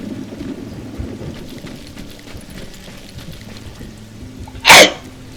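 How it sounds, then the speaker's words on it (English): A single sharp sneeze bursts out loud and close near the end, over a low murmur of rainy background noise. "Sorry, that was my sneeze."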